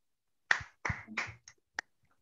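A handful of sharp, separate hand claps ring out in a quiet training-course room, about five quick strikes trailing off, with no voices.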